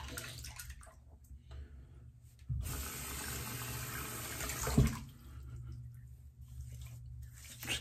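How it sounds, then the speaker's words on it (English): Tap water runs steadily into a bathroom sink while someone splashes their face during a wet shave, a louder gush in the middle with a brief splash, lower trickle before and after. "Get some water on my face."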